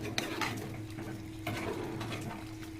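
Coconut gravy being stirred in a pot, with a spoon scraping and knocking against the metal in irregular strokes over a low simmering bubble, close and moderately loud.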